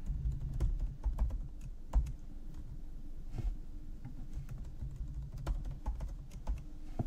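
Typing of a username and password on a computer keyboard, with rapid irregular keystrokes and occasional sharper key clacks running steadily at close range; no talk.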